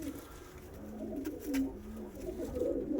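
Pigeons coo steadily at close range in a loft, including young birds and a black Vienna-type breed, with soft murmuring calls overlapping and a voice faintly underneath.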